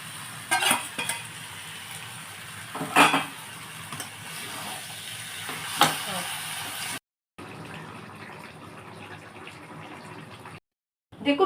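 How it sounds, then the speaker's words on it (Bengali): Shrimp dropped into a pan of green jackfruit and potato curry, giving a steady sizzle with stirring and light utensil clatter, broken by brief pauses and sudden cut-offs. "এবারে আমি দিচ্ছি এই চিংড়ি মাছগুলো সব দিয়ে দিচ্ছি।"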